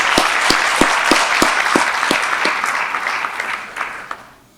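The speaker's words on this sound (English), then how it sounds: "can we give a round of applause to our ASA president again?" An audience at a cultural concert claps warmly, with sharp individual claps standing out over a dense wash of applause that gradually fades out at the end.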